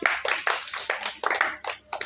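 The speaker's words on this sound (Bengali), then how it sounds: "হাততালি দাও সবাই" A group claps hands in a fun game session, several short bursts of quick claps close by, slightly uneven in rhythm, with no talk.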